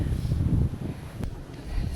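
Strong wind buffets the microphone at Dumbarton Castle, a steady low roaring rumble that swells and dips over two seconds, with no other clear sounds.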